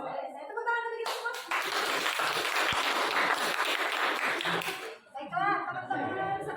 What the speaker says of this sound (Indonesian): Saya tepuk tangan untuk kita semua.